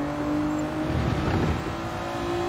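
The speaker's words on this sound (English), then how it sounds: "As you can hear from the strain we're putting into the tyres." Racing video game 2002 Honda NSX-R tyres straining under heavy grip, a steady strained whine over a continuous engine drone, loud and unbroken for the whole stretch.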